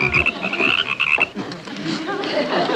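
Frogs croak in dense, overlapping calls, loud and close, with a busy rhythmic chorus that continues throughout.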